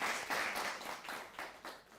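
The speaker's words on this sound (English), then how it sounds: "A round of applause." A crowd applauds steadily, a broad wash of many hands clapping at moderate volume with no voices over it.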